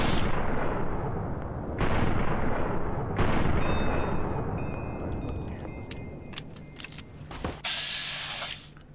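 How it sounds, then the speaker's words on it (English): Joshua Graham fires at the player in Fallout New Vegas, loud heavy gunshots in bursts with a few sharp cracks and metallic clatter, close and dominant, with no talking. "Why is Joshua Graham shooting me?"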